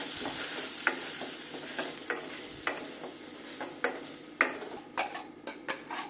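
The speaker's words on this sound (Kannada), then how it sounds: "ಚೆನ್ನಾಗಿ ಹಸಿ ವಾಸನೆ ಹೋಗೋ ತನಕ ಹುರ್ಕೊಳ್ಳೋಣ" Ground masala paste with fennel and curry leaves frying in a pan, a steady bright sizzle broken by repeated sharp scrapes and taps of a spoon stirring, close up.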